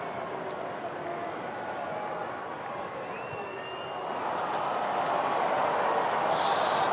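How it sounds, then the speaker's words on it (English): A large home crowd at a 2011 AFL Fremantle Dockers v Geelong match lets out a collective groan at a missed kick, a broad murmuring roar that swells louder over the last few seconds, heard in the distance beneath commentary. "You could hear the collective groan as soon as it left the boot."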